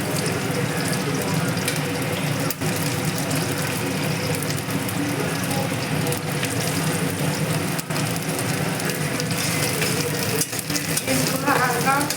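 Beans frying in hot oil for egg fried rice, a steady close sizzle and crackle running throughout with occasional stirring scrapes, no talking.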